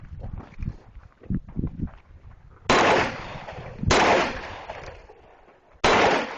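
Pistol shots ring out during a skill-builder shooting drill. Three sharp, loud reports are spaced a second or two apart, each followed by a decaying tail, after some softer low thumps.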